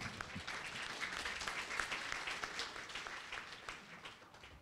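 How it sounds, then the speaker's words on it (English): A hall audience gives a rousing round of applause at a formal ASEAN-related keynote event, steady dense clapping from many people, distant and even, gradually easing off near the end. "rousing round of applause"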